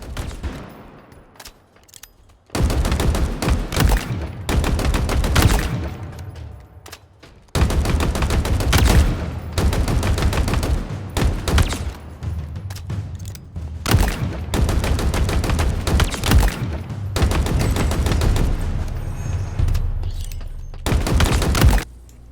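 Bursts of rapid, bassy gunfire from a Halo Infinite gun in several long volleys, separated by brief pauses, loud and close with no talking.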